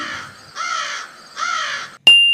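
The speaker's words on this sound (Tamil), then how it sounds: "கரைந்து கரைந்து அழைத்திடுவேன், கூட்டமாக வாழ்ந்திடுவேன். நான் யார்? காகம்." Two loud, drawn-out crow caws ring out close by in quick succession, followed by a sharp metallic ding.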